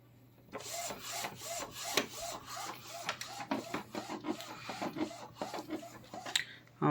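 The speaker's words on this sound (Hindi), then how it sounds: "हम ये हमारा प्रिंटर ऑलमोस्ट 13 डेज़ के बाद चालू कर रहे हैं" An Epson L1800 DTF roll-to-roll printer runs with a rhythmic shuttling of the print head, repeating scraping clicks and whirs over a low steady hum. The sound is close and moderately quiet, with no talking.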